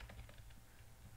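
Brief burst of computer keyboard typing, a few quick key clicks close to the mic over a low steady hum, with no talking.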